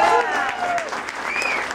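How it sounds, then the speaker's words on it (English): A crowd at a live concert at Schuba's Tavern in Chicago gives a short burst of clapping, mixed with rising whoops and cheers. "Give him a big round of applause if you will."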